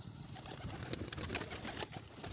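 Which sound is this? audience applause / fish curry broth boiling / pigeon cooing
pigeon cooing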